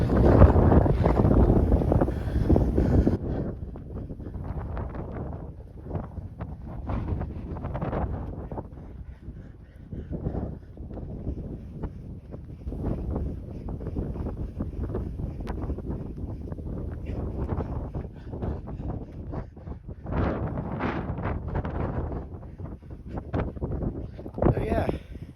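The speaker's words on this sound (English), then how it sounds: "Now, that wind is quite refreshing." Wind blowing outdoors at Ogden Water reservoir, heavy buffeting on the microphone at first, then gusty rushing bursts under someone talking throughout.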